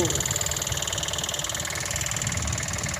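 An engine-driven water pump draining a fish pond on a farm, running with a loud, steady, rhythmic mechanical chug throughout.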